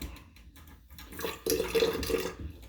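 A bathroom tap runs water for shaving. It starts as a faint trickle and then turns into a louder, steady rushing stream that carries on for about a second before easing off.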